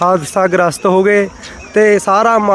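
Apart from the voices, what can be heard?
No distinct noise like a dog, phone or traffic.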